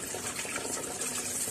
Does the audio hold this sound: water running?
yes